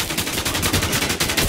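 Rapid gunfire from the online survival shooter WarZ, a dense, steady stream of shots in quick bursts that fills the whole stretch, loud and close with no talk over it.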